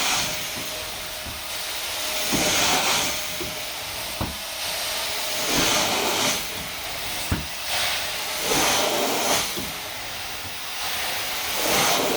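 Steady hiss of steam from commercial carpet cleaning equipment working over carpet squares, a continuous broadband rush with periodic swells and soft clicks as the wand moves, no talking.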